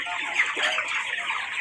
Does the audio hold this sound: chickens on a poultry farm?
yes